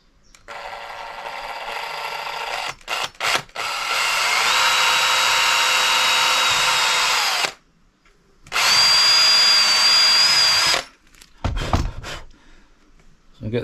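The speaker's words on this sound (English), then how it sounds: "I'm going to attempt to do it with my actual drill rather than doing it by hand" Power drill pre-drilling screw holes for cabinet hinges while fitting a kitchen unit in a VW Crafter van conversion: two long, loud, steady whirring bursts with a rising pitch, separated by short pauses and brief clicks.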